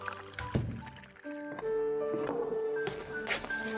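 Water pours into a glass or cup in a steady, gurgling stream lasting a few seconds, set over soft background music in a home scene of a Tagalog radio drama.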